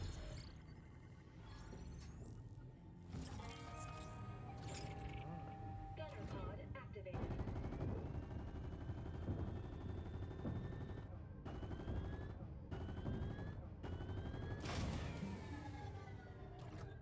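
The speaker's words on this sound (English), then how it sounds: "just some other players shooting down some asteroids" Rapid gunfire from several players shooting at asteroids in Fortnite, bursts and single shots popping in clusters across the scene amid whooshes and game effects, with a voice talking over parts of it.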